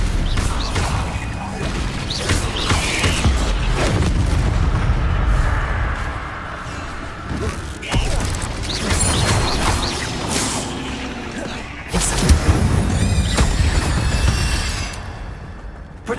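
Spell-casting combat in a Harry Potter video game: rapid bursts, blasts and booms follow one another loudly, with a voice calling out incantations throughout.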